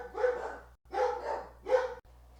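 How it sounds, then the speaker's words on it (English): Several dogs bark at someone walking past on a hiking trail, three loud bursts of barking close by, separated by short pauses, with a steady low hum underneath. "Stupid dogs barking at someone going by"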